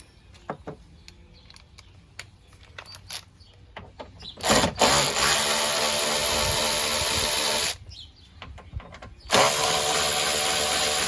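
Power tool backing Torx T27 screws out of a 2009 Ford Escape car door: faint clicks and handling first, then two loud sustained whirring runs of several seconds each, separated by a short pause.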